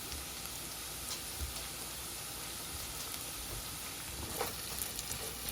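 Fresh razor clams cooking in a pan for clam chowder, giving a soft, even frying hiss with faint crackles that runs steadily throughout, quiet and without talking.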